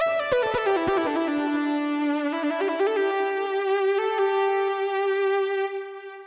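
A sustained Korg Opsix SE synthesizer lead melody with key-pressure vibrato on held notes, bright and harmonically rich, playing alone and fading at the end.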